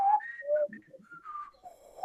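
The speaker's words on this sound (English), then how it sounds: "So why are we whistling" A group of people whistle together during a horn players' session, holding sustained pitches that slide and shift, at moderate volume, with no talking.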